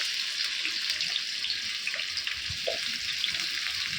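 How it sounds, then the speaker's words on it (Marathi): Chopped onion goes into plenty of hot oil for a bitter gourd dish, and it sizzles steadily and loudly at close range for four seconds with no pause. "त्यानंतर आता आपण चॉप केलेला कांदा टाकणार आहोत"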